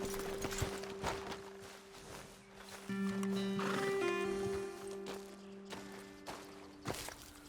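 Horses in the western video game Red Dead Redemption 2 whinny and snort while hooves clip-clop nearby, with game music and ambience underneath.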